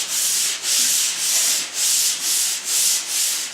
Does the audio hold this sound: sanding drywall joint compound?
yes